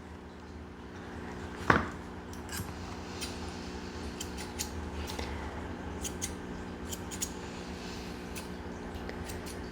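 Scissors snip a Morkie dog's coat during a full grooming session, with one sharp close cut standing out and fainter snips scattered quietly afterward.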